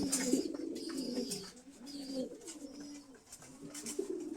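Breeding pigeons in a loft give soft, repeated low coos, a few close calls rising and falling over faint background chirps.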